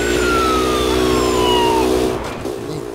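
A motorcycle engine revs loudly and steadily in the Battlefield Hardline video game, a continuous close whine that holds for about two seconds before dropping off sharply.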